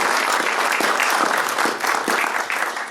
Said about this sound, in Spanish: del arqueólogo Óscar Montúfar Latorre, a quien brindamos un fuerte voto de aplausos en agradecimiento por su presencia.